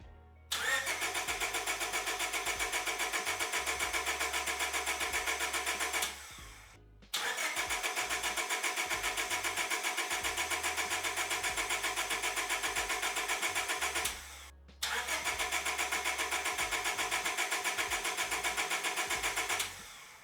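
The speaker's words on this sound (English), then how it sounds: "the car was just turning over, no start" An EK Honda Civic hatchback engine cranks over repeatedly without catching, three long bursts of rhythmic starter whirring separated by brief pauses.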